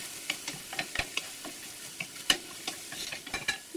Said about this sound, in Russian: Шампиньоны уже зажариваются.